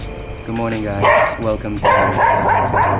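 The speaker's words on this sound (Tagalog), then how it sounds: "Siya yung naririnig nyo ngayon tumatahol" Newly arrived dog barking in repeated sharp bursts, loud and close, while someone talks over it.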